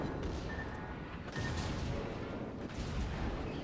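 Warship guns fire in World of Warships, heavy booming blasts that come in a few rolling bursts over a dense, constant rumble of naval battle. No one speaks.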